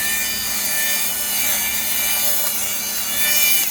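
A fabric shaver buzzes steadily against clothing while removing pills, with a raspy, scratchy rubbing texture as it moves over the fabric; close and continuous, no speech.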